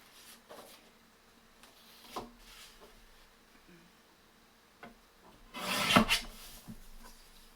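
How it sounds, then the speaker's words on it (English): Paper being cut on a paper trimmer for a folio craft project, with a few light sliding rubs and clicks, then one louder, longer rasping cut near the end of the clip. "So I'm going to trim this down here"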